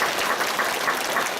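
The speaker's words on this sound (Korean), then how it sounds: "감사한 마음으로 감사의 박수 한번 드리세요." Church congregation applauding in thanks during a Sunday worship service, a steady wash of many hands clapping throughout, fairly close and filling the room with no voices over it.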